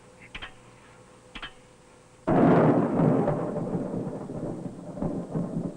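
A thunderstorm rolls over a 1958 missile test site: two sharp ticks, then a sudden heavy thunder crash that rumbles on and slowly fades, with rain noise underneath.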